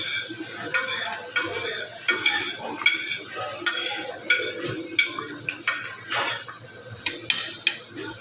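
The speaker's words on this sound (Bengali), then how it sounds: "ভালো করে নাড়ব।" A spoon stirs chhanar payesh, a thick milk pudding with cashews and raisins, in a pan, making repeated sharp scrapes and taps against the metal over a soft simmering hiss at close range.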